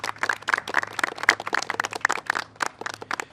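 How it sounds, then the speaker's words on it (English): Scattered hand clapping from a modest audience welcoming a congressional delegation at a presidential event on the Hurricane Ida response, uneven distinct claps at close range, no talking. "A round of applause for them."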